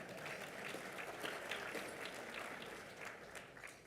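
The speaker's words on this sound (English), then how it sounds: "Can we have a round of applause for that one?" Audience applause at a parliamentary luncheon, a steady sustained clapping from a seated crowd that stays fairly even throughout, moderately loud with no talk over it.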